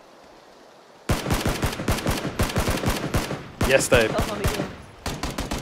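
Rapid bursts of automatic gunfire crack loudly in PlayerUnknown's Battlegrounds, several volleys of closely spaced shots with brief pauses between them, after a quiet start; players talk over the shooting.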